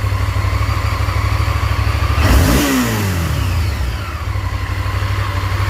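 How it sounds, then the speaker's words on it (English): A Honda VTR Firestorm motorcycle engine, warmed up after carburetor tuning, idles loudly, then is blipped into a quick rev that rises and falls before settling back to a rough, steady idle. "Engine picks up nice, all the way from idle"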